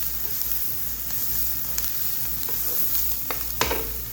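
Shredded cabbage lightly frying in a pan, a continuous close sizzle over a low hum, with scattered scraping taps from a spatula stirring through it and no talking.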